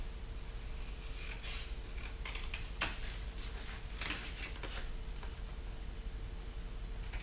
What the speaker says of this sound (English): let me take a scissor here and cut this off